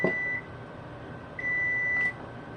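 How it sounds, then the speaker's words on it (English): Kitchen timer going off while cooking coney dog sauce, giving a short electronic beep, a pause, then a longer steady beep, thin and moderately quiet over faint room noise. "There's my timer."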